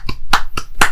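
Four sharp hand claps ring out close by, evenly spaced and crisp, with nothing else around them.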